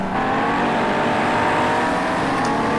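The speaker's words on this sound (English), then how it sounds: "close battle between both Mustangs and the Ferraris so far." Ferrari and Mustang GT race cars battle closely during a sim racing championship round at Oschersleben, producing a steady, loud, continuous engine drone with layered revving throughout.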